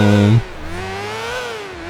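A PCJ 600 motorcycle engine in the video game Grand Theft Auto IV gives a loud, brief burst of revving that drops into a buzzing, steady drone, close and without any talk.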